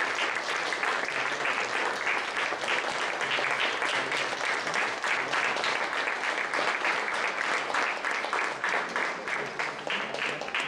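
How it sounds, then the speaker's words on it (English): An audience at a university Science Day celebration applauds during a memento presentation, with dense, steady clapping sustained loudly for about ten seconds and no break. "Please have a great round of applause."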